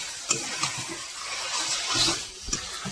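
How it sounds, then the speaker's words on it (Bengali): A spoon works through chicken skin, liver and mixed meat curry with spices in a home cooking pan, giving soft scraping stir strokes over a steady low sizzle, close and alone with no talk. "এখন একটু ভালো করে নাড়িয়ে নিলাম"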